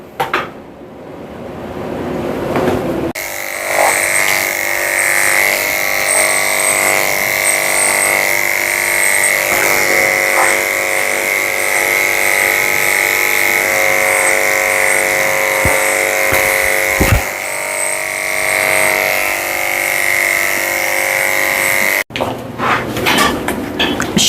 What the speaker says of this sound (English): Shaving under her tail with a tin blade, shaving out her belly with the tin blade also.